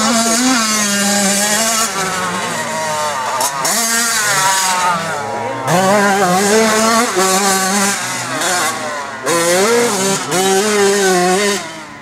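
A classic motorcycle at a racing training day accelerates hard out of a corner. The loud, close engine note climbs repeatedly in pitch, with brief dips between rising surges.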